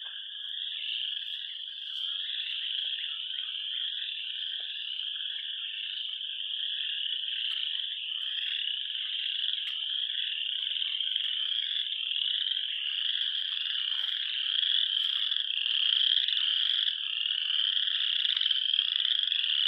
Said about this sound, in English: No, these are not spring peepers. I don't actually know what they are. They might be pickerel frogs.